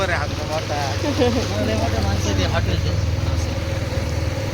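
A boat engine drones steadily under wind noise as the boat crosses the Narmada River, with voices talking over the constant motor hum.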